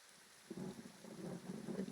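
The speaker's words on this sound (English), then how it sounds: "The rain isn't helping, that's for sure." Rain falls in the video game Pillars of Eternity, a soft hiss with low rumbling swells that builds after a quiet start, steady and moderately faint.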